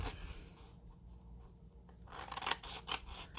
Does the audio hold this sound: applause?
no